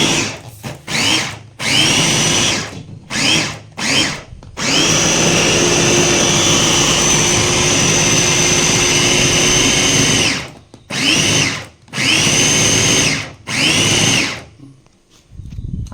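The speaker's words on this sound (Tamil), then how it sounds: "அப்படியே பிளெண்ட் பண்ணலாம்." A blender whirs loudly and close, blending a chicken kola urundai mixture in repeated short pulses, then one long sustained run, then more pulses before stopping.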